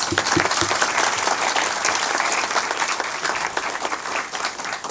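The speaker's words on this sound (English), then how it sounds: "Let's give everybody a round of applause." Dense applause from a sizable crowd at a clinic grand opening, a steady wash of many hands clapping at once that holds for several seconds before easing slightly.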